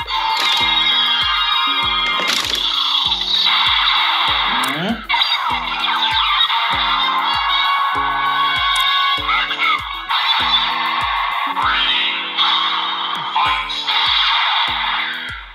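A Premium DX Memorial Magnum toy plays a loud, continuous electronic sound effect with a pulsing rhythmic beat and layered synthesized tones. It runs steadily and close throughout.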